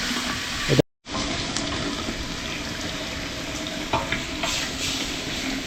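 Khichuri cooks in a pot as a spoon stirs it. A close, continuous sizzle and scraping go on with occasional light knocks, and a brief gap of silence falls near the start.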